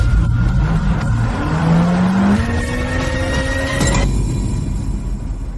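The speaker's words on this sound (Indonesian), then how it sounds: "Tuan Huo, itu mobil Tuan Muda kedua." A car approaches up close with a steady engine hum, rising pitch as it revs and accelerates, tires hissing on the road, then the engine note cuts off abruptly near the end.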